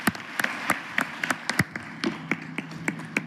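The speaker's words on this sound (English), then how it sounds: "give a round of applause to the Dependable Engines Association for such a great night tonight" Scattered, uneven hand claps ring out from an audience at an awards night, with separate sharp claps rather than a dense roar and no voices over them.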